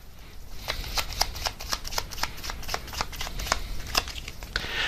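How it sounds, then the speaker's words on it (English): Tarot cards being shuffled in a quick, steady run of crisp riffling flicks and snaps, close and fairly quiet, with no talking over them. "Let's just get one more card to see if anything else comes out about that."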